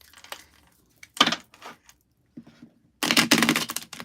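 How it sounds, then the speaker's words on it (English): A tarot card deck being shuffled, with short bursts of crisp riffling and snapping card noise separated by pauses, ending in a louder sustained flurry, close and fairly quiet. "let's shuffle."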